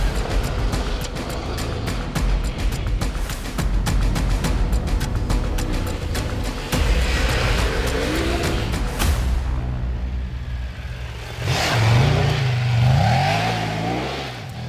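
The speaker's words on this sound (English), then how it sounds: "This is the Tiger 1200 Rally Pro. Today we've been ripping it off-road on it" Triumph Tiger 1200 Rally Pro motorcycle ridden off-road, its engine revving hard and loud through repeated throttle surges and gear changes, then easing off and pulling away again.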